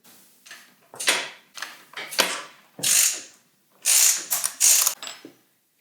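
A ratchet turning a Shimano bottom bracket tool during a mountain bike pivot service gives repeated close, loud bursts of rapid clicking, about seven strokes with short pauses between them.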